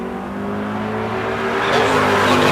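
A 1987 Firebird and a 1976 Camaro launching in a bracket drag race, engines rising into a loud, swelling roar that builds toward the end.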